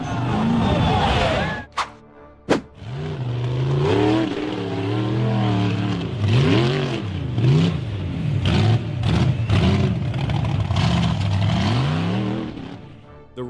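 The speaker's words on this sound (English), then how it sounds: "then revved hard and charged up the steep dirt slope, only to end in a backward rollover" A red off-road buggy engine revs hard in repeated loud bursts as it charges up a steep dirt slope in a forest, rising and falling throttle howls with sharp crashing thuds, ending in a backward rollover.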